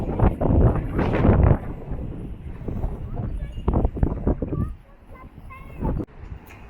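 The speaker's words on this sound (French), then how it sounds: "aujourd'hui comme vous l'entendez il y a beaucoup de vent" Strong seaside wind buffets the microphone in loud, gusty rumbles, with waves and a voice speaking intermittently over the blustery roar.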